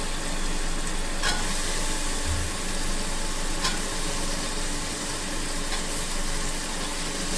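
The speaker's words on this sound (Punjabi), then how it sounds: "ਇਹਨੂੰ ਵੀ ਅਸੀਂ 2 ਮਿੰਟ ਮਸਾਲੇ ਦੇ ਭੁੰਨ ਲਵਾਂਗੇ" Aloo pakoras sizzle as they are roasted with spices in a pan for a curry, a steady close hiss with a few faint scrapes of stirring and no talk.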